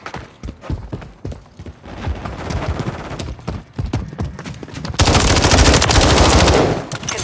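Rapid automatic gunfire in the video game Call of Duty Modern Warfare 3 during an online match, dense bursts of shots building to a sustained loud volley, with faint talk underneath.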